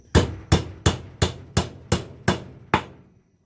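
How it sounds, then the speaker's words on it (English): Eight sharp hammer blows strike a nail into a 2x4 planter box at a steady, even pace, each a crisp close knock with a short ring. "Take my hammer, my nail."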